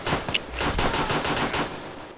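Rapid automatic gunfire in the military shooter game Arma 3, set in Mali, a loud burst of sustained machine-gun shots crackling over about two seconds with no talk.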